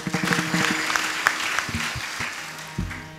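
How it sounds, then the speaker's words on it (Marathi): An audience at a kirtan claps for the volunteers, a burst of dense applause that thins and fades over a few seconds. "त्या सेवेकऱ्यांसाठी मोकळ्या मनानं टाळी वाजवा."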